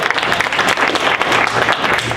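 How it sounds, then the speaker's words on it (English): Dense, steady applause from an audience at a high school recognition event, loud and continuous for a couple of seconds with no voices over it. "So one more round of applause for Rachel."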